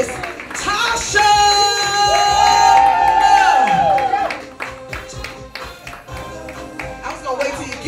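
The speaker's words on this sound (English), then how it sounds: "I want everybody in the building to start clapping" At a comedy show, an audience bursts into loud, sustained cheering and whooping with clapping mixed in, then the roar drops back to scattered claps and crowd noise.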